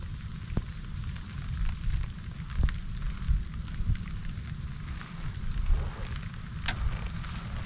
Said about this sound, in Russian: Дождь, ветер.